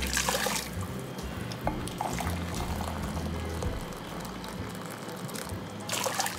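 Preheated water pours steadily into a pot for a beef mac and cheese meal-in-a-jar recipe, a continuous splashing, gurgling stream heard close up.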